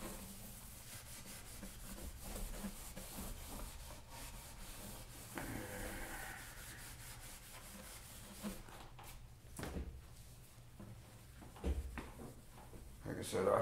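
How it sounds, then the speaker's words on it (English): A cloth wipes excess oil off a Fender guitar neck, giving a soft, continuous rubbing and sanding-like scrub with a few brief knocks, close and fairly quiet throughout. "I'm gonna wipe the neck down here, get the excess oil off of it."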